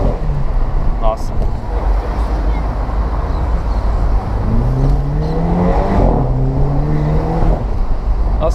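A Mini Cooper convertible heard from onboard, its engine climbing in pitch through the gears with a rasping exhaust note at each shift, steady road and wind noise underneath and people talking over it.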